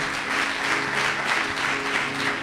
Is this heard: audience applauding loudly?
yes